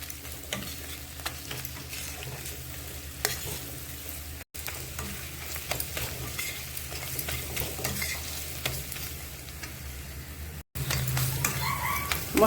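Mushroom curry spice masala of chili powder, coriander-cumin powder and salt sizzles and fries steadily in a pan while a spoon stirs and scrapes through it in soft repeated strokes, close and continuous with no talking.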